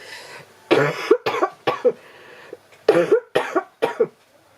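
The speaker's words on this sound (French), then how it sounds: "en espérant que cette toux me laisse travailler tranquillement" A run of close, harsh coughs comes in bursts, several in quick succession with short pauses between them, loud and near.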